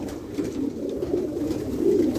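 Pigeons from Germany coo in a continuous low, murmuring drone, close and steady, swelling slightly toward the end, with no speech.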